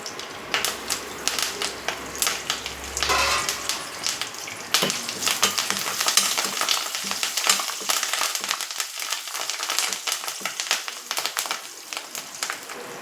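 Tempering of cumin, urad dal, chana dal, dried red chillies and curry leaves dropped into hot oil, crackling and spitting in dense bursts that settle into a steady busy sizzle.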